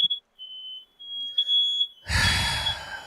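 A smoke or carbon monoxide detector gives a loud, piercing high-pitched electronic beep, sounding in short repeated bursts and then a sustained tone, before a breathy noise takes over.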